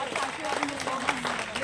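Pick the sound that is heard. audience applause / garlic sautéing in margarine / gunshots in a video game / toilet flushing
audience applause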